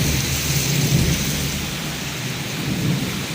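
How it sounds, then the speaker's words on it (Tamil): Heavy rain pours steadily on a road while low thunder rumbles underneath, a dense, continuous roar that stays loud throughout. "ரோடு ஃபுல்லாக இடி வேற இருக்குது சரியான மழை பலத்த மழை"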